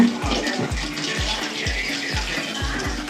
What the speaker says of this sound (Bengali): ডিমগুলো ভাজা হচ্ছে